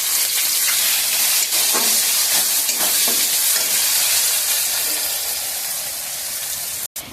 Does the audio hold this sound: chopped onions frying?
yes